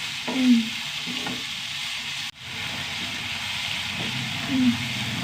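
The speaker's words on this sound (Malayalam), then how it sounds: "തക്കാളി ഉള്ളിയൊക്കെ നന്നായി വഴണ്ട് വന്നുട്ടാ" Tomatoes and onions sauté in a pan with a steady sizzle and hiss, broken by a few stirring scrapes and one sharp clatter midway, and no talk.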